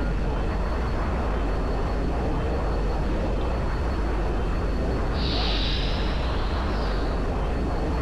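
A fighter jet in Battlefield 2 roars steadily throughout, a dense continuous engine wash with a brief higher whine near the end, loud and close with no talk over it.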